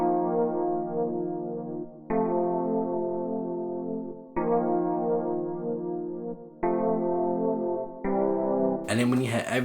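An 80s-style electric piano plays a simple chord progression: four sustained chords, each held about two seconds with a clean attack, then a fifth shorter chord ending in a brief bright noise burst.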